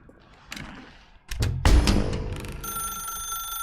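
A telephone rings in The Stanley Parable mod, a bright electronic ring that sounds amid clatter and a loud thump, then keeps ringing steadily.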